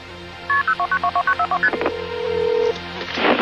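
A telephone number is punched in on a keypad, eleven quick evenly spaced touch-tone beeps followed by a steady ringing tone, clear and close.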